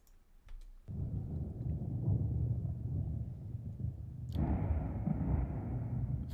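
Thunder sound effect in a Unity FMOD project: a low, broad rumble builds after a brief quiet start, then a sharper crack near the end renews a loud, sustained roll with no voices.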